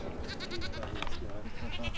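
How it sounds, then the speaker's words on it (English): Goats bleat close by at a campsite in Texas, with several quavering cries one after another over a busy background of people chatting. "bonus points, we have goats."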